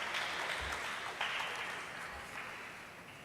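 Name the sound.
audience applause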